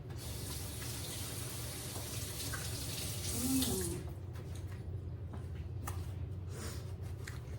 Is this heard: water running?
yes